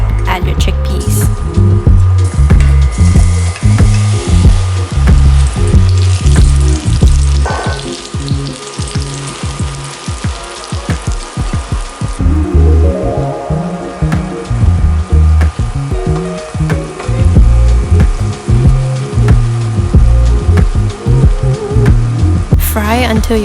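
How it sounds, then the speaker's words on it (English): Chickpeas fry in a pot of hot oil with a loud, continuous, crackling sizzle and bubbling that holds close and strong throughout, with occasional clinks and stirring under a voice talking. "Fry until your chickpeas turn a deep golden brown."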